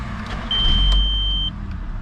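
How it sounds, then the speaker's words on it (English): An MK3 Volkswagen Jetta VR6 cranks and fires up right after fuel is added, a short loud burst of engine sound with a faint electronic chime over a low rumble. "Make sure she still starts."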